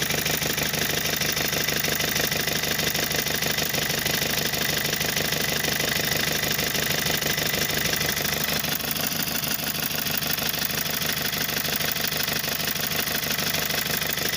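A Renault Master 2 van's 2.8L DTI Sofim diesel engine idles steadily for a long stretch, a close, even, rattling clatter that runs smoothly without revving or voices.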